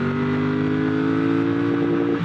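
A Triumph Bonneville Bobber motorcycle pulls hard in its tall first gear, the engine droning loud and steady with a slowly climbing pitch, heard up close from the rider's position.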